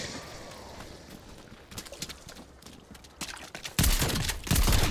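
Rapid bursts of gunfire in Call of Duty Zombies, sporadic shots building to dense, loud volleys toward the end.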